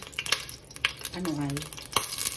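Ingredients sauté in a frying pan with quick scraping stirs and a soft sizzle underneath, the strokes coming in close, irregular bursts, with a brief voice-like hum in the middle.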